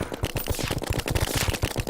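Rapid gunfire from shooting in the Terraria video game: a steady stream of sharp, evenly spaced shots, close and loud, with no talk.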